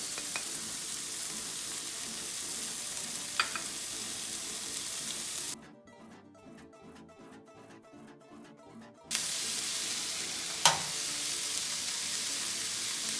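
Tomatoes fry in a pan for a tofu scramble, giving a steady close sizzle with occasional stirring clicks. A few seconds in the middle drop to a quieter, muffled hiss before the full sizzle returns.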